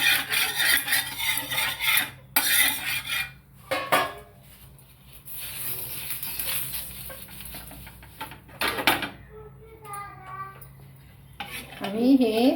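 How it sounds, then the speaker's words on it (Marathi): Rice flour batter stirred in a bowl, repeated scraping and clinking of a utensil against the bowl in uneven bursts, close and fairly loud, with quieter pauses between strokes. "आणि हे सारखं हलवायचं"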